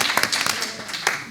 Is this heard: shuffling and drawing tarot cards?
no